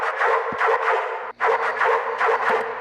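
A heavy dubstep bass synth with a resonant effect rack and small-room ambience: a continuous loud, grinding tone chopped into pulsing segments, with one brief dropout partway through.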